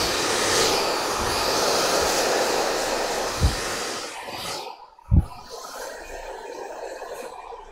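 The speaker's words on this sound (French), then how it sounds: "lorsque je réalise mon brushing, mon sèche-cheveux se met toujours dans le sens du cheveu" A hair dryer blows steadily during a blow-dry on long hair at a hairdressing session, a loud continuous whooshing hum that cuts off near the end, with a couple of low thumps from handling.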